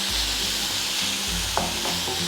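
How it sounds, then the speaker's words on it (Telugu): Onion and small-cut capsicum frying in oil in a pan for a healthy oats breakfast: a constant close sizzle with a brief clink of utensil near the end and a low hum underneath, no voices. "ఉల్లిపాయని 1 నిమిషం వేగనివ్వాలి. తర్వాత దీంట్లో చిన్న ముక్కలా కట్ చేసుకున్న క్యాప్సికమ్ వేసుకోవాలి."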